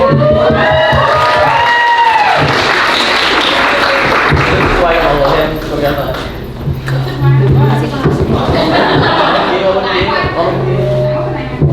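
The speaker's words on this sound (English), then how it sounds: "Give them a round of applause again." Audience applause and cheering at a college international dinner, loud and sustained across the whole stretch, with shouts and voices mixed into the crowd noise.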